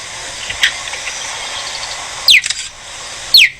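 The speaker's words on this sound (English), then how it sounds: "the fastest land mammal on Earth, the cheetah, which I would take seriously if they didn't sound like this" Cheetah giving high, bird-like chirps: two short, sharp downward-sweeping chirps about a second apart, plus a faint earlier chirp, over a quiet, steady outdoor background.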